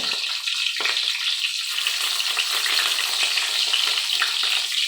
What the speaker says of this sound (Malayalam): ഇനിയിപ്പോൾ പട്ടയും ഗ്രാമ്പും ഏലക്കായും ഒന്നിട്ട് കൊടുക്കാം വറ്റൽമുളക് ഇട്ട് കൊടുക്കുന്നുണ്ട്